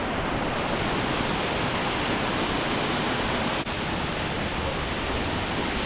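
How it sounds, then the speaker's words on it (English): A huge Scottish waterfall roars as a dense, constant wash of falling water, loud and close, with no voices and only a brief dip partway through. "I did not realise the waterfall was going to be this impressive."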